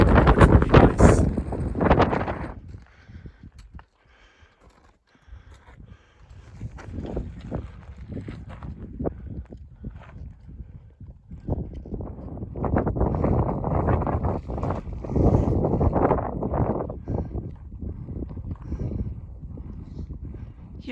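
Gusty wind buffeting the microphone on a mountain pass in Kings Canyon during a backpacking trip, roaring in strong bursts with a quiet lull early on, then returning in rough, uneven gusts.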